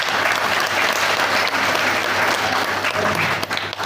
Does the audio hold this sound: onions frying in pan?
no